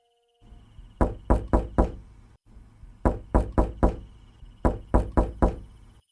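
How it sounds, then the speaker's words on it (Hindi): Knocking on an old wooden door at midnight: three clusters of four sharp, close raps, separated by short pauses, loud and alone in a quiet room. "3 बार दस्तक हुई।"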